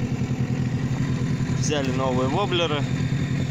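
A small outboard motor runs steadily on the Kama river during a fishing trip, a constant loud buzzing drone throughout with someone talking over it partway through.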